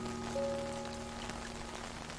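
Rain in the video game Know by Heart falls softly and steadily, a faint even patter under a quiet, sustained musical tone.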